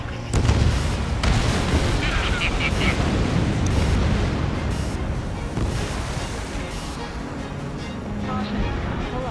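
Ace Combat 7 combat during the Anchorhead Raid brings a roaring missile launch and booming explosions over rushing jet and wind noise, with a steady, loud, broadband rumble throughout and radio chatter voices layered over it.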